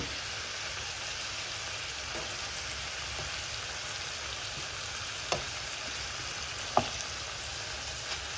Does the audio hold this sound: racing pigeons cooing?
no